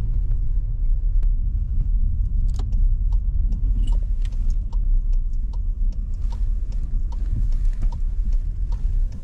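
Car idling and creeping in reverse on a rural village road, a steady low engine rumble close by with scattered small clicks and rattles, no talking.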